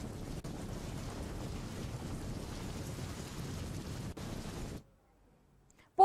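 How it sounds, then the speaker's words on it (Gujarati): Steady unseasonal rain in rural Porbandar, Gujarat, hisses and patters with gusty wind noise on the microphone, then it cuts to near silence before a brief sharp sound at the end. "ગ્રામ્ય વિસ્તારમાં વરસાદ વરસવાની શરૂઆત"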